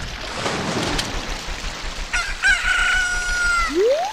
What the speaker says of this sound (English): Instead of the wolf howling, you got the cuckoo.